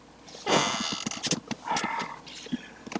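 A dog makes a quick run of snorting, huffing and rumbling noises up close, busy and irregular, with short scuffling clicks between the sounds.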